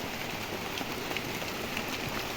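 Steady rain falling outdoors on a Kerala farm plot, a dense even patter with no voices and no breaks.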